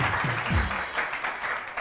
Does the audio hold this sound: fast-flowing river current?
no